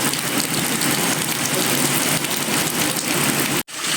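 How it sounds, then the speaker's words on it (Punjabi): Steady rain pours down at night, a dense, continuous hiss close around, with a single brief dropout near the end. "ਅੱਧੇ ਘੰਟੇ ਤੋਂ ਲਗਾਤਾਰ ਜਿਹੜਾ ਮੀਂਹ ਪੈ ਰਿਹਾ ਆ"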